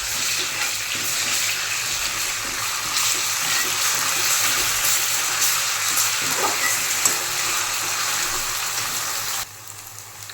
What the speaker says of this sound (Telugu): ఇప్పుడు 1 స్పూన్ అల్లం వెల్లుల్లి పేస్ట్ వేసుకుందాం. ఇది పచ్చివాసన పోయేంత వరకు మంచిగా ఫ్రై చేసుకుందాం.